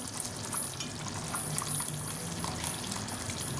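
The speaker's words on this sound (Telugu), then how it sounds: "మరీ నీళ్ళగా అయితే వేసుకోకూడదండి చింతపండు పులుసు, కొంచెం చిక్కగానే వేసుకోవాలి. ఇలా మరిగించుకోవాలండి." Tamarind fish stew (chepala pulusu) simmering in a pan, giving a steady soft bubbling sizzle with faint intermittent pops, moderately close and with no voices.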